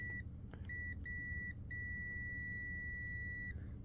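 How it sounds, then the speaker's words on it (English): A Doyle multimeter in continuity mode gives several short beeps and then one long steady tone, faint but clear, with no talking. "Hear that? That's continuity."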